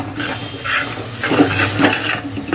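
Val bean curry with salt is stirred in a pan, a spoon scraping and knocking against the metal in loose strokes over a soft sizzle, close and fairly loud.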